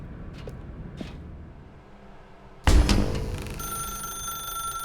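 A telephone in a dark room in The Stanley Parable video game starts ringing abruptly partway through, a loud electronic ring that sustains after a few faint earlier clicks over low background hum.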